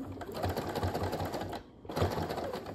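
A sewing machine stitches around the final curve of a fabric snack pack bag, a steady rapid mechanical chatter running close and continuous, with a brief pause before it resumes.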